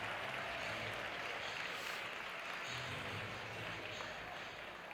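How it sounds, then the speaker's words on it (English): Applause from an audience welcoming the judges at a school competition event day, a continuous, distant-sounding wash of clapping in a large room, fairly faint and unbroken. "Please give a big, warm round of applause and welcome our judges"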